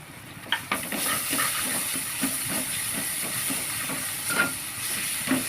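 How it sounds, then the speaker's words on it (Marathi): Ginger-garlic paste sizzles and hisses in hot oil with asafoetida, a steady frying crackle broken by a few sharp pops, close and moderately loud throughout. "लसूणची पेस्ट व्यवस्थित तेलामध्ये फ्राय करून घ्यायचे"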